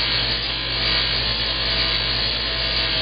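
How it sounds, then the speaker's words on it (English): A buffing wheel polishes scratches out of a small transparent part for a Hydrofall reservoir, a steady, even whirring rub with a low motor hum running continuously at close range. "The buffing wheel is removing a lot of the scratches and getting the surface damn near back to the way it's supposed to be"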